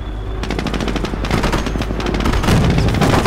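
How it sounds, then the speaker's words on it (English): Cavalry units firing weapons in the real-time strategy game Company of Heroes: dense, continuous bursts of automatic gunfire mixed with rapid shots and explosive thuds, loud and close throughout, with no talking. "Cav is on the ground, firing weapons."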